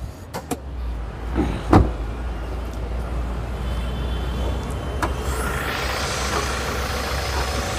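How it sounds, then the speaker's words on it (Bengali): A Toyota G Corolla sits with its engine running smoothly, a steady low hum close by, broken by a few sharp clicks and a light mechanical whir near the end. "গাড়িটা কিন্তু স্টার্টে দেখেন কত সুন্দর, ইঞ্জিনের সাউন্ড একবারে স্মুথলি।"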